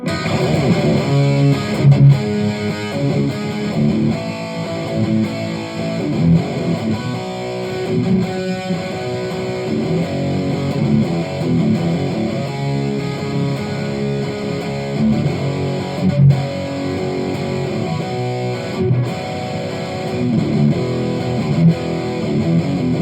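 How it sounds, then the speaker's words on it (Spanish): An electric guitar runs through a compressor, an overdrive and a Metal Zone distortion pedal on a digital multi-effects board set for high gain, giving a thick, saturated, heavily distorted tone that plays steadily and loud for the whole stretch, with no voices. "después del compresor y después del overdrive, ahora sí agregamos la distorsión, que en este caso es el metal son, y obtenemos este sonido"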